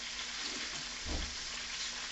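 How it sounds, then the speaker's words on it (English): Chicken pieces browning in a hot frying pan give off a steady, close sizzle, broadening into a slightly louder crackling swell around the middle as the pieces are moved. "I'm going to brown up the rest of this chicken"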